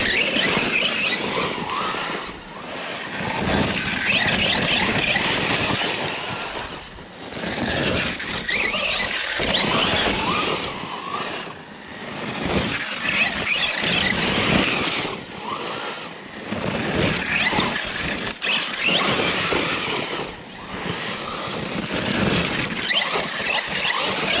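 An Arrma Fireteam RC car whines and squeals in sustained high-pitched surges as its wheels spin, the motor rising and dipping through repeated bursts of throttle with short pauses between them.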